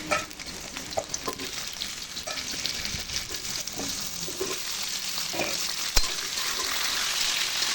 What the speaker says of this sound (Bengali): সাদা জিরে ভালোভাবে নেড়ে চেড়ে এখানে আমি দিয়ে দিচ্ছি সে গাঁটি বা ছড়ি কচু